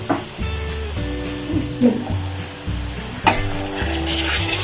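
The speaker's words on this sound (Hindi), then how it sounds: "इस टाइम के ऊपर मैं इसमें चिकन ऐड कर दूंगी" Chicken coated in marinade sizzles and crackles as it is dropped into a pan of frying onions, a steady close hiss with stirring clatter, while someone speaks over it.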